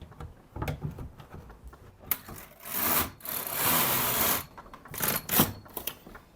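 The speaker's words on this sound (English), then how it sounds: "I'll bring the carriage right over here." A knitting machine carriage slid across the needle bed, giving a few short rubbing scrapes and then a longer sustained sweep, fairly close with small clicks in between.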